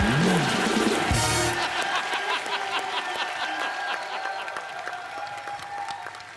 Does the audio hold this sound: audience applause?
yes